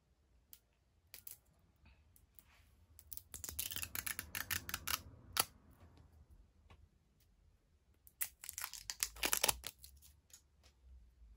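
Packaging around a Mac foundation brush is unwrapped close up, producing bursts of crinkling and crisp snipping clicks separated by quiet pauses.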